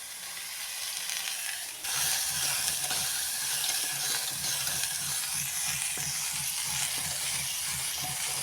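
Oil added to a hot pan catches with a sudden jump into loud, steady sizzling and hiss that carries on alone after a quieter start.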